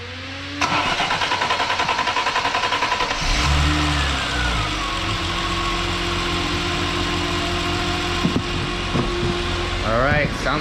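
A BMW E30 convertible engine cranks and starts after a head gasket replacement, then settles into a steady, close idle with a few faint background sounds near the end.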